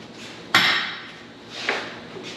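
Metal hammer strikes during installation of a custom grade control system, two sharp ringing blows about a second apart with a fainter third at the end, heard close over quiet background.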